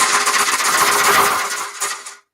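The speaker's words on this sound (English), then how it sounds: "I have this drum to do that" A drum used for energy clearing is played in a fast, dense flurry of rattling, buzzing strokes. The sound is loud and close for about two seconds, then stops abruptly.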